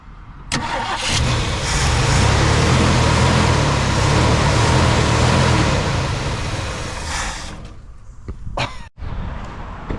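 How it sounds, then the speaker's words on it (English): A 1965 Mercury Montclair's 390 FE big block cranks and rumbles loudly up close for several seconds, the churning engine noise swelling then fading, with a couple of sharp knocks as it dies down. "All right, crank it, don't hit the foot V."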